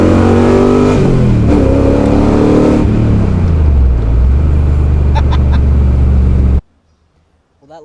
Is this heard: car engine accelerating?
yes